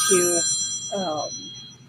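A mobile phone rings from inside a pocket, two short melodic ringtone bursts close by.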